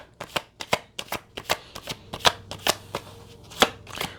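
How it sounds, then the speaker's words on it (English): Tarot cards being shuffled and pulled, a quick series of crisp riffling snaps and slaps in an irregular rhythm, close and fairly loud with no talking. "I'm going to pull cards and I'll see what it is."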